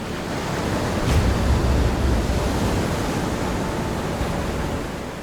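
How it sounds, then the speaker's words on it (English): Large ocean waves generated by an asteroid impact, heard as a steady, loud broadband roar of surf and rushing water with no distinct breaks, swelling slightly early on and holding level throughout. "The impact generates large-scale waves that radiate outward across ocean basins."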